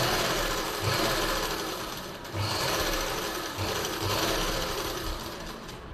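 Electric sewing machine running steadily as it stitches a pleat into blouse lining with a narrow margin, a close, loud mechanical whir with brief dips and restarts, no voices.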